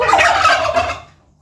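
A bronze turkey gobbles once, loud and close, in a short rattling burst that fades quickly.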